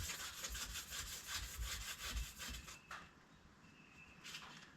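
A strip of 600-grit emery cloth rubs a motorcycle brake caliper clean, making close, rhythmic back-and-forth scraping strokes for about three seconds before quieter, sparser rubbing.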